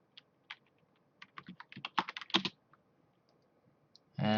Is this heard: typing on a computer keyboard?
yes